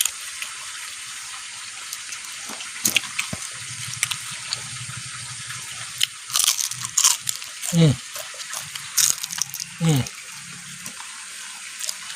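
Several sharp, crunchy bites close to the mic come in short bursts with quiet pauses between, as crisp deep-fried wild wood mushrooms are chewed.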